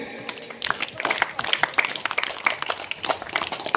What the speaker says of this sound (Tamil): ஒரு கைதட்டுங்க